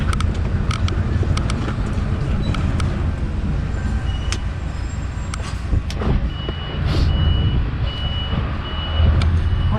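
A Scania truck reversing, its backup alarm beeping in a steady repeated rhythm over a rumbling diesel engine, with faint bits of talk underneath.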